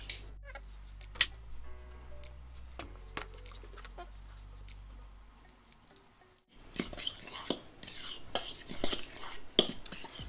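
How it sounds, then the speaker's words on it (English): A fork stirring dry ingredients in a bowl for pie baking, heard as close scraping and light clinking against the bowl, more active in the latter half, with a low hum early on and no talking. "And then I just give it a mix with the fork"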